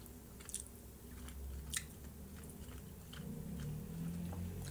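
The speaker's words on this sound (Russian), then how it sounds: "Это я откусывала на пробу" Someone bites into a dumpling stuffed with raw potato and pork belly and chews it, giving soft close mouth squishes and faint crunchy clicks over a quiet background.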